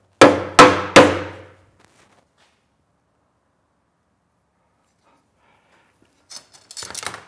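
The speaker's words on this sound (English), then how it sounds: "And I can adjust it with the hammer." Three quick, sharp hammer taps on the wooden arm rail of a sack back Windsor chair, followed by quiet and then some faint shuffling.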